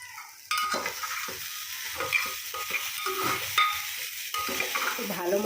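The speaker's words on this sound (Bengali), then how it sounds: "তো প্রথমে আমি ডালিয়াটাকে ভেজে নিলাম।" Broken wheat (dalia) frying in a pan, a bright crackling sizzle with intermittent scraping stir strokes and light clinks of utensil against metal, close and continuous after a brief quieter start.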